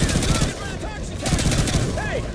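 Gunfire in the Call of Duty Modern Warfare 2 video game: rapid, loud bursts of automatic rifle shots crackle throughout, with a few brief shouted voices over the shooting.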